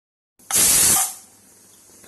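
A pressure cooker holding mutton leg soup lets out one loud, forceful hissing whistle of steam about half a second long, close by, then falls to a softer lingering hiss.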